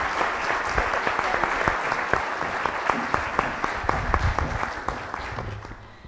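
An audience applauds after a lecture, a dense burst of many hands clapping that holds steady for several seconds before tapering off.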